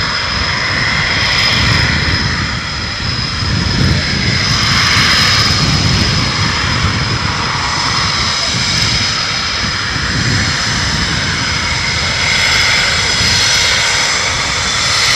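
A Typhoon jet at RAF Coningsby roars loudly and continuously, a broad, sustained engine rush that swells and eases slightly over fifteen seconds with no voices.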